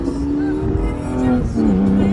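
A Porsche 982 718 Boxster GTS 4.0 with a 6-speed manual drives with the top down, its engine a steady tone that shifts pitch as it moves along.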